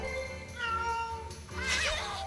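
A cat enemy in the Wakfu video game meows twice in quick succession, loud and close, rising into a drawn-out, higher whine at the end.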